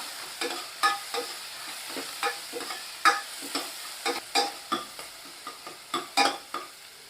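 Crushed small shallots are stirred and sautéed in oil for sambar, with a soft frying hiss under repeated sharp scrapes and taps of a spoon against the pan.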